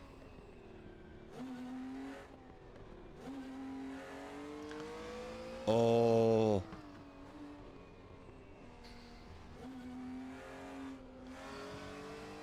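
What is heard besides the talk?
Volkswagen ID R electric race car driving, RaceRoom video game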